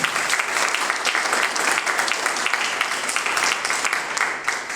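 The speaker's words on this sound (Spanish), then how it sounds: "Les pido que le demos un fuerte aplauso de bienvenida." An audience at a conference gives sustained, dense applause to welcome a speaker, steady and full throughout.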